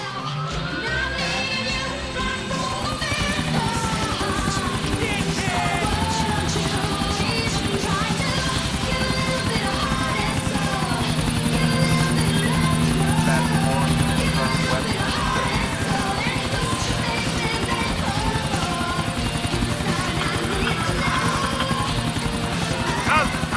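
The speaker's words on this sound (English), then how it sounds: "But I'm in a helicopter!" A helicopter in the video game GTA IV drones with a loud, continuous rotor whir, layered with other game sounds and voices throughout.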